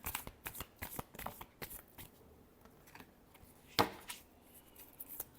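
Tarot cards being shuffled close up, a quiet series of quick riffling taps and slaps with one sharper snap toward the end, with no talking.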